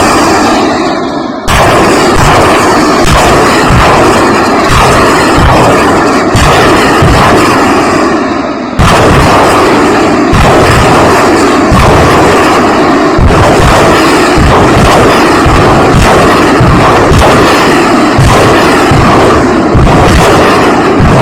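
Artillery and missile fire in wartime combat footage, a loud, dense, continuous barrage of booming blasts and rapid reports, with repeated heavy thuds layered over roaring noise throughout.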